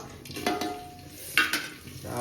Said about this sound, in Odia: ପିଆଜ ପକାଇଦେବା ପିଆଜ